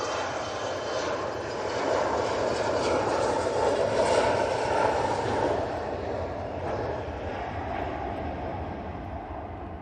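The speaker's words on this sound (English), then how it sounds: "Logan Air, Embraer ERJ145, now on the roll, off to Inverness" A Loganair Embraer ERJ145 jet rolling for takeoff at Manchester Airport in stormy weather, a rising jet roar that peaks midway and then slowly fades as the aircraft moves away.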